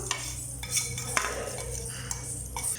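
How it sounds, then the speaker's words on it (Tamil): A spoon stirs fried tempering into ven pongal in a pot, giving soft scraping and a few light metallic clinks against a low steady background, close and without speech. "இப்போ நம்ம தாளிச்சதை வெண்பொங்கலோட சேர்த்துடலாம்."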